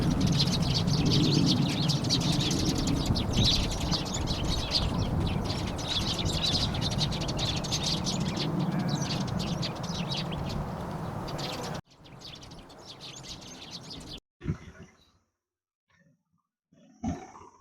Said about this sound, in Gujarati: સાથે પક્ષીઓનો કલરવ પણ સંભળાઈ રહ્યો છે